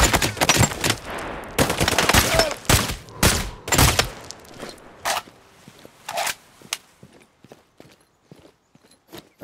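Sharp gunshots and rapid bursts of fire from combat in Sniper Ghost Warrior 3, loud and clustered at first, then thinning to scattered fainter cracks and thuds.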